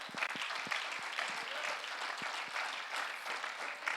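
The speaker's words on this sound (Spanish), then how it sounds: "Denle un aplauso al Señor en esta hora." A church congregation claps together, a fairly quiet, even wash of hands with a few sharper individual claps standing out, lasting about four seconds.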